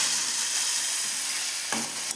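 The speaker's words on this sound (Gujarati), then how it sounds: "હવે આ બરાબર શેકાય, મતલબ સોતે થાય ત્યાં સુધી આપણે રાહ જોવાની છે." Tomato puree sautés in a pan for Kathiyawadi kaju gathiya curry, a loud, dense, continuous sizzle close by, with a brief stirring scrape near the end.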